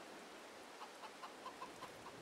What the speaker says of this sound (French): Les poules, on va voir.